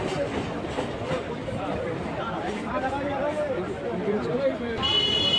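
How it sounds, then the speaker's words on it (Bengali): A crowded Kolkata circular-rail commuter train rolls through slums and narrow lanes, a steady rumble with rattling carriages under continuous talk from passengers. "এই ট্রেনটা বিভিন্ন রকম বস্তি আর গলির মধ্যে দিয়েই যাচ্ছে"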